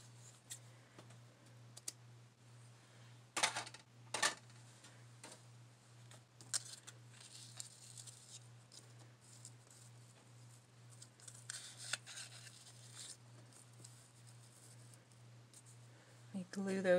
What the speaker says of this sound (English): Get my other scissors. I think it's better for cutting fabric.